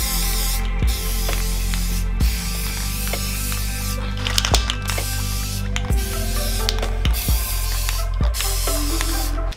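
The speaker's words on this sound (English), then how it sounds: "Finally, a protective clear coat." Clear protective coat sprayed onto steel tread-plate back armor: a steady, close aerosol hiss running throughout, broken by several brief pauses and small clicks of the nozzle.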